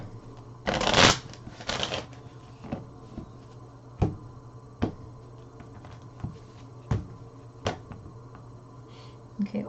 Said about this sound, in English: let me just go ahead and just shuffle this one more time.